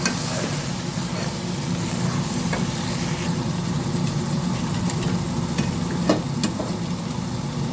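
Spices being stirred into a sizzling pan of Arab-style afritada, a steady soft scraping and frying hiss running continuously with faint knocks of the utensil.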